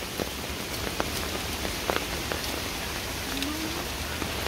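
Steady rain falls on a village in rural Bangladesh during the rainy season, a dense, even patter of drops on surfaces that holds throughout with no talking.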